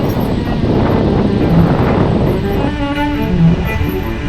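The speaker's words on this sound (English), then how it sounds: "The wind is brutal, man." Strong wind roars across the microphone while road cycling between corn fields, a loud, steady rumbling buffet that continues without a break, with faint tonal sounds in the background.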